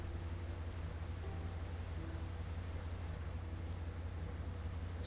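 Steady rain pours through a nighttime scene in a British train simulator game, a constant even hiss with a low rumble beneath it and no talking.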